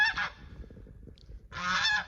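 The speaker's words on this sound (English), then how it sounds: "there's my geese over there" Geese honk outdoors after rain, two bursts of loud nasal calls separated by a short lull, close to the listener.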